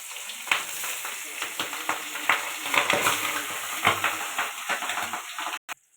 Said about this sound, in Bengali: কড়াতে মাছগুলো দিয়ে দিলাম।